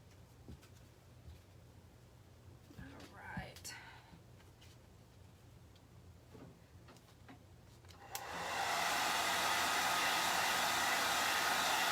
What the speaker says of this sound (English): Then I will hit that with the hair dryer again, just to make sure it's dry